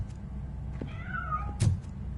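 A cat meows once in the RoboCop Rogue City video game, a short rising-and-falling mew over a low ambient game hum, followed by a small thump.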